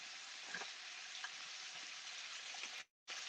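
Beef for pepper steak sears in a hot pan over medium-high heat, giving a steady, close, dense sizzle with faint crackles and pops that cuts off abruptly for a moment near the end.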